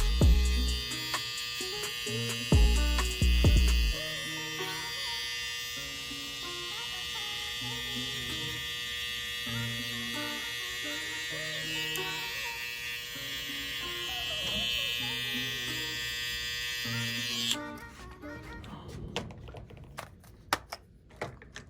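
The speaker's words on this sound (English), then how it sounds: "Now you take your balding clipper and you trick fade at the very bottom" A balding clipper buzzes steadily close up through most of a trick fade haircut, with a brief low thump near the start, then cuts off near the end, leaving quieter handling noises.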